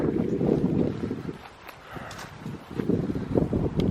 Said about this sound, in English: There's the wind kicking up again, so I'm trying to block it.